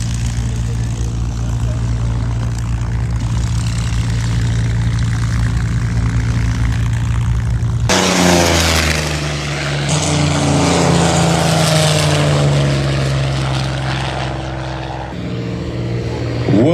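A propeller warbird aircraft, a Yak 3 at the Warbirds Over Wanaka airshow, drones loudly overhead, its engine note climbing and then sweeping lower in pitch as it flies past, a steady powerful roar.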